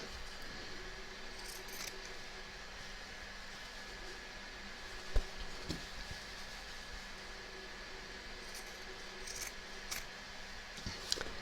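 Scissors trimming fabric along the edge of an in-the-hoop embroidered notebook cover, faint quiet snips scattered over a low steady background hum, with a few slightly sharper cuts toward the end.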